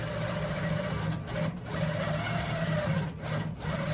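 A Handi Quilter Pro-Stitcher sewing machine runs steadily, stitching a seam a quarter inch from the fabric edge, with a continuous close motor whir and a couple of brief pauses as it back tacks.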